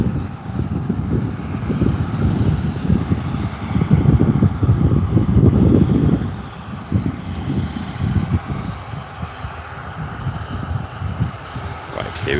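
A TUI passenger jet at Newcastle Airport makes a broad, distant roar that swells and then eases off. Wind buffets the microphone throughout.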